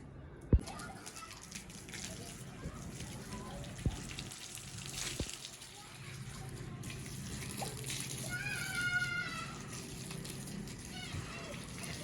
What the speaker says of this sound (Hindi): पानी का एक जग जो है ना वो हम भर रहे हैं